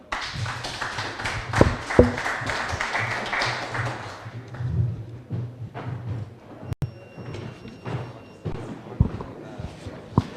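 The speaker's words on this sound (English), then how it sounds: "Clap for them" An audience applauds at a Kiambu Golf Club candidates' debate, with steady indoor clapping for about four seconds that fades into scattered taps, thuds and room noise.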